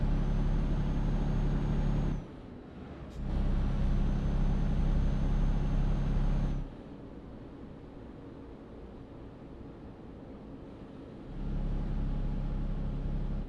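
Truck engine in Euro Truck Simulator 2 revving, loud droning bursts that rise and cut off twice, with quieter idle stretches between, no talk.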